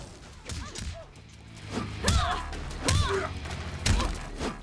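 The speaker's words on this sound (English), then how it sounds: "Now she hit me with the shoulder." A Mortal Kombat X fight, with Scorpion in an infrared skin taking a shoulder hit. Several heavy thuds and whooshing impact effects land about once a second, mixed with short grunts and game effects.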